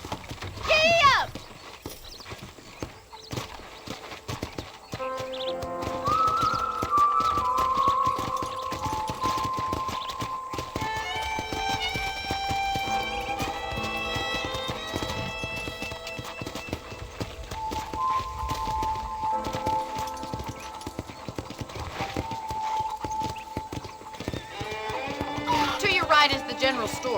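Horse hooves drum along in Red Dead Redemption, a continuous run of hoofbeats beneath a prominent musical score and occasional voices.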